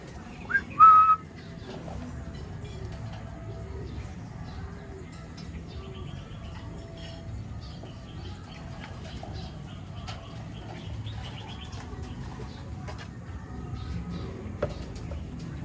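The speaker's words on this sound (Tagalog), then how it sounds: "Sana makalusot mga kalapatid itong si Blue" Racing pigeons in a loft give low, soft coos that repeat through the first half over a steady background hum, after a short sharp whistle at the very start; no wing flapping stands out.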